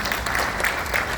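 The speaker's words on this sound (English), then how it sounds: "Please, let's give him a round of applause." Audience applause for the chairman and CEO of the Manila Times at a formal event, a steady broadband clapping wash that holds at an even level through the whole short stretch.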